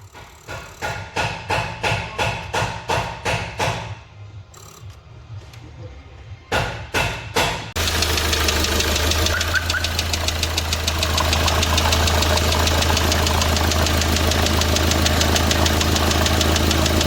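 A Hyundai D4CB diesel engine knocks after break-in: first a run of sharp, evenly spaced loud knocks with a brief lull, then a steady close engine drone with a fast rhythmic clatter running through it.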